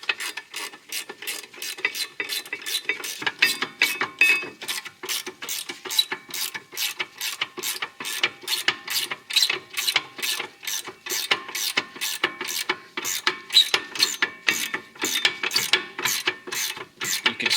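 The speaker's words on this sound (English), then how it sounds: "Get our ratcheting wrench." Ratcheting wrench clicks rapidly while turning bolts on Hyundai rear brakes, a close, even run of pawl ticks in repeated bursts throughout, no speech.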